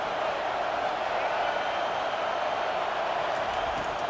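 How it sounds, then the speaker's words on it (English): Stadium crowd noise in the College Football 25 video game, a dense, steady roar of a large crowd trying to rattle the offense, continuous and fairly loud throughout. "This crowd trying to make life miserable for this offense."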